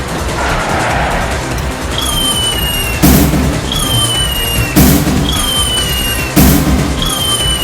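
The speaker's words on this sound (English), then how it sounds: "Why are they setting off fireworks in the fucking rain?" Fireworks going off in the rain in the N64 racing game F1 World Grand Prix 2: a few sharp, loud bursts with whistling streaks at steady intervals over a constant engine and rain wash.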